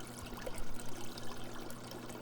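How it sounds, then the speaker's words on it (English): Water trickling from a length of rain gutter back into a hydroponics tote, a soft, steady splashing like a small waterfall, close and continuous over a low hum. "The trickling of water back into the tote does three things: aerates the water, has a beautiful waterfall sound"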